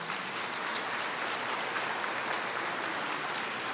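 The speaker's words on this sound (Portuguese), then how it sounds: "Pode aplaudir o Senhor." Congregation applauding during a church service, a steady broadband wash of clapping that holds evenly at a moderate level for the whole stretch, with no voices rising above it.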